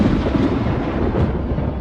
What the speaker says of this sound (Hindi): बिजली का तूफान, संभल कर।